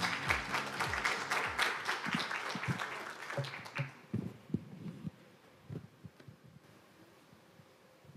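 An audience at a lecture gives a burst of applause for the speaker that fades out after about four seconds, leaving quiet room noise with scattered low thumps and handling sounds.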